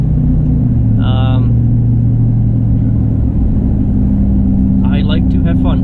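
Steady low truck engine rumble while driving, continuous and fairly loud, with people talking briefly over it at two points.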